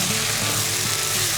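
Rice being stirred into mutton masala in a pot for mutton yakhni pulao, giving a steady, close sizzling and frying hiss with soft scraping, continuous and fairly loud with no talking.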